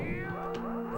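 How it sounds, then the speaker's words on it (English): A cat-like creature meows once in a Nintendo 64 Pokémon Puzzle League game, a short tonal, wavering cry heard alone over steady game music. "It meows."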